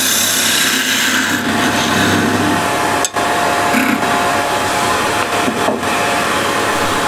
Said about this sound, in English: I always like to make a little skim cut and clean up the top